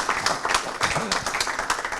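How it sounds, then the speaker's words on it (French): Audience applause at a French launch event, a steady patter of many clapping hands filling two seconds at moderate volume, with a faint voice briefly underneath. "Vous pouvez applaudir, bien sûr,"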